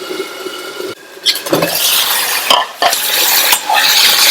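Potato and green pea masala stirred in a pan, a spoon scraping and clattering against the metal in irregular strokes with brief pauses, close and fairly loud, with no voices.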